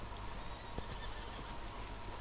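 A horse neighs in Red Dead Redemption 2 over a dense, steady background of game noise, with soft hoof clops. The sound is fairly faint and there is no speech.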